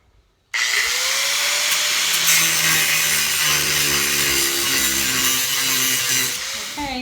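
A power tool screams loudly and continuously as it cuts off a bolted track inside a horse trailer, its pitch dipping and recovering under load, starting abruptly after a moment of quiet.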